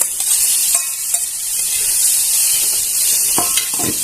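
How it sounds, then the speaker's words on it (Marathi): Okra stir-fried in a pan gives a steady close-up sizzle, with a few scraping stirs near the end and no talking. "भेंडी छान अशी परतून घ्यायची"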